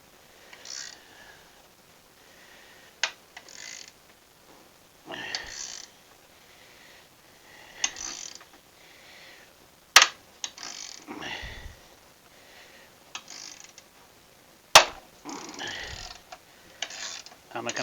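Small needle bearing being pried and worked out of a Honda SH300i scooter during a winter repair project, with intermittent metallic clicks, scrapes and a few sharp taps separated by quiet gaps, close by.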